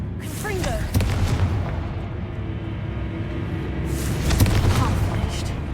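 Confringo fire-spell explosions in the video game Hogwarts Legacy: two sharp booming blasts about three seconds apart over a low, continuous ambient rumble.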